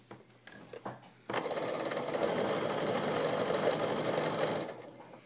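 A sewing machine stitches quilt block pieces in one continuous fast run of rapid mechanical whirring lasting several seconds, close and clear, preceded by a few soft handling clicks.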